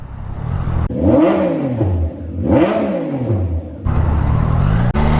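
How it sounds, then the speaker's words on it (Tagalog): Stock exhaust of a Triumph Tiger 660 inline-three motorcycle revving hard twice, each rev climbing and falling in pitch, then settling into a steady loud idle, close up with no talking. "Singitan ko na lang dito ng clip no Para dun sa tunog ng exhaust nya Dahil naka stock pa tayo"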